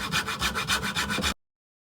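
A mini saw cuts through wood in quick, evenly spaced back-and-forth strokes, close and clear, about eight rasping passes before stopping abruptly.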